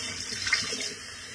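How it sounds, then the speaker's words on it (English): Cold tap water pours over cooked potatoes sitting in a colander, giving a soft, steady splashing hiss that stays fairly even for a brief moment. "I've drained them into this colander, you can see, and now I'm going to quickly wash them with some cold water on the top"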